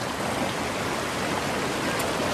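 Flowing water of a stream near Sedona makes a steady, dense rush that stays close and even throughout, with no voices over it.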